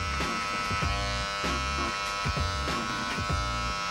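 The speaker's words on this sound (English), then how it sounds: "we're gonna just clip over comb that shadowy area right in there" Electric hair clippers buzz steadily as they cut hair clipper-over-comb on a bald fade, with a rhythmic pattern of repeated strokes and close, bright harmonics and no talking.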